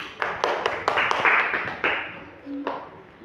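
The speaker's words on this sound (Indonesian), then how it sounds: "Tepuk tangan untuk Filia." A classroom of students clapping for a classmate, a scattered patter of claps with sharp separate hits, close and moderately loud, with a brief murmur of voices underneath near the end.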